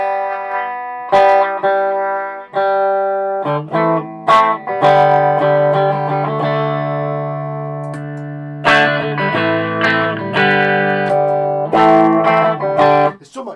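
Electric guitar chords ring out through a Rat distortion pedal into an Orange amp, struck and left to sustain, with a few bursts of quick strummed phrases in between.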